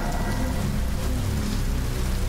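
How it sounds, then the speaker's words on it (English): Steady, dense pouring rain in a horror video game, a continuous broadband hiss with low rumble filling the whole stretch at an even level, no voices. "what are you doing out here in the pouring rain at this time?"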